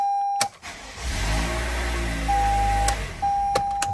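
A 2019-2024 Toyota RAV4 engine cranks and starts after an oil change, then idles steadily for a few seconds nearby, with a warning chime beeping on and off over the running engine.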